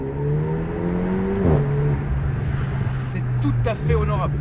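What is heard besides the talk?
Renault Megane RS 400+ accelerating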